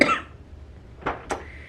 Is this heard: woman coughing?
yes